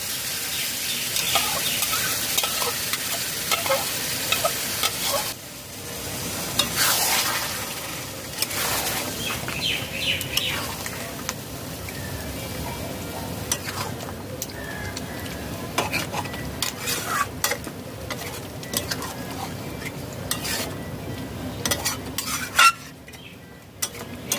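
Marinated chicken with sour-yogurt gravy sizzles steadily in a pan over medium flame while a utensil stirs and scrapes against the metal, with occasional clinks of the spoon.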